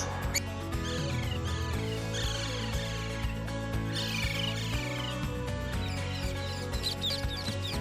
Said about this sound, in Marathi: खूप चिवचिवाट करतायत.